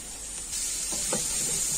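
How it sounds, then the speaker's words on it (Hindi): Carrots and potatoes frying with spices and black pepper in a pan for a mixed vegetable dish, a short close hiss of sizzling oil with a couple of soft stirring scrapes, no voices. "1-2 मिनट के लिए फ्राई कर लेंगे गाजर को"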